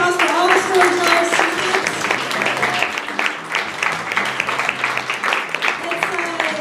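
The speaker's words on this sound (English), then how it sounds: "Let's give one more round of applause for all the storytellers." An audience at a live storytelling show claps and cheers for the performers, the applause loud and lively throughout, with talk and shouts from the crowd mixed in.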